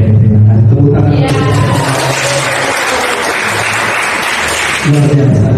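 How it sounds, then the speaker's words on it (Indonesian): A seated audience at a teachers' training session claps, a broad wash of applause mixed with talk and a loud, boomy hum, rising in the middle and fading near the end. "Tepuk tangan"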